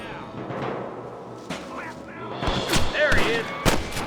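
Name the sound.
gunshots, video game Red Dead Redemption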